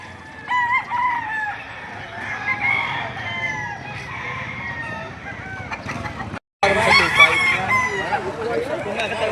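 Roosters, including Boston Roundhead gamecocks, crow repeatedly at a livestock auction in Padre Garcia, Batangas, loud and close, amid clucking fowl and a busy crowd, with a brief cut midway.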